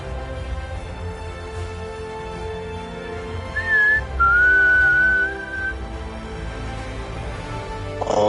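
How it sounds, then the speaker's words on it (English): A person whistles a short sustained melodic tone, faint and mid-distance, over a steady background hum of game audio during a gaming session. "he might stop all that whistling"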